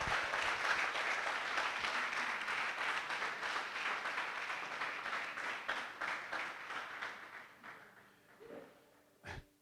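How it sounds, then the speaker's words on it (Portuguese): Audience applause at a church service: dense, sustained clapping that fills the space for most of the stretch, slowly thinning and fading toward the end, with a few louder scattered claps in the last moments. "Dá um aplauso para Ele e diz glória a Deus."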